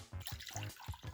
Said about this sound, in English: when I pour the water in